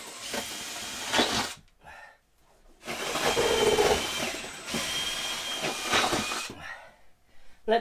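A power drill bores 10mm holes in timber, with whining drilling bursts of a few seconds each separated by short pauses, loud and close.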